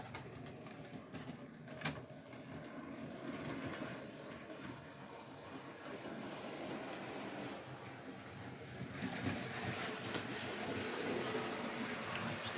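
A Bachmann K3 model locomotive runs along model railway track around a tight corner, a continuous faint rumbling whir with small clicks, growing slightly louder near the end.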